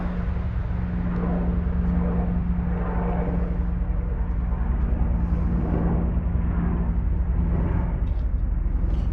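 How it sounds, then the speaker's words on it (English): Military helicopters passing overhead near a Canadian base, a broad steady rotor and engine roar holding for several seconds at moderate distance, with a low constant hum underneath and no speech. "Do love the sound of those choppers though."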